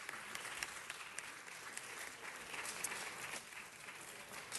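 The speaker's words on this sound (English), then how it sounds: "How about a big round of applause for the high schoolers of STEM Academy?" Faint, distant applause at a city council meeting for STEM Academy high schoolers from Bernstein High School in Hollywood, an even patter of many hands sustained throughout.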